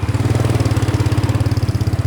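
A motorcycle engine running close by in Morocco, a loud steady rapid thumping pulse that holds evenly throughout with no voices.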